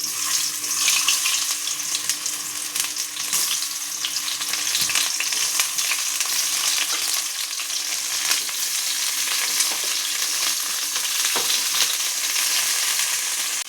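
Soybean kebab frying in a pan gives a continuous loud, crackling sizzle throughout, with faint scattered pops and occasional soft stirring knocks close by, and no clear voices.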